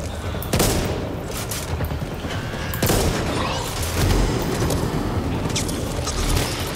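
Gunfire in the zombie shooter Back 4 Blood comes in loud bursts and sustained volleys, with heavy booming shots over a dense, chaotic background.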